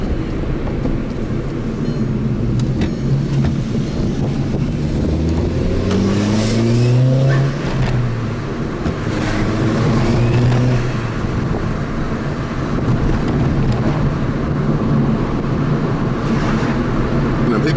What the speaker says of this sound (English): The stock turbo is pretty loud too, with the intake.